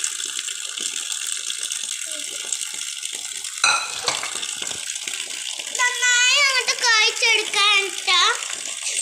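Cooking water poured from a vessel into a spiced mix of chili, turmeric and salt for chicken pakoda batter, a close splashing pour in short bursts with bright, gurgling surges toward the end.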